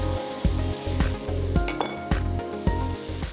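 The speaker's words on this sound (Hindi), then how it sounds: "और तो थोड़ा सा सौटे करते रहिए।" Capsicum and carrots are sautéed in a pan under a light sizzle, with a spatula scraping and clinking against the metal in a steady rhythm of roughly two strokes a second, close and without talk.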